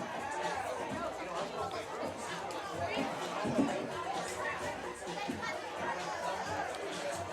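Home crowd at a high school football playoff game, RC Hatch versus Maplesville, a steady murmur of chatter and children's voices at moderate distance, with no distinct cheers.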